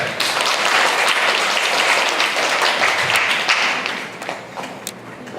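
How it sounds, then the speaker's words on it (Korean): A church congregation at a Sunday praise service claps to welcome a pastor to the pulpit, a dense, steady wash of many hands close by, tapering slightly toward the end. "우리 큰 박수로 환영하시겠습니다."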